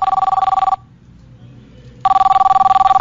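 Telephone ringback tone heard after dialing, two loud repeated ringing bursts separated by a silent gap of about a second, with no voices over the rings.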